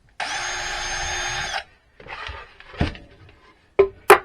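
Power drill boring holes in a Pierco beehive box: one sustained high whine of about a second and a half, followed by scattered knocks, rustles and two sharp clacks near the end, with no talk.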